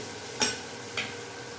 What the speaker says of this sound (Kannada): ಕಾಯಿ ತುರಿ ಹಾಕ್ತಾ ಇದ್ದೀನಿ ಒಗ್ಗರಣೆಗೆ